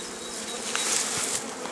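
A dense, steady hum of many honeybees buzzing close by at an open frameless hive, continuous and fairly loud with no voices.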